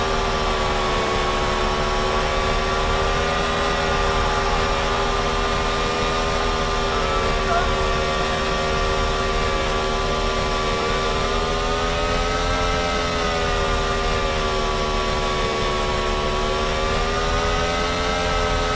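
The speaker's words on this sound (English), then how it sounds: "if you don't mind the naturally aspirated engine sound, that's just a feature of the game" A high-revving, naturally aspirated race car engine in a Formula E racing video game drones loudly and continuously, its pitch shifting slightly as it holds speed, with no talking.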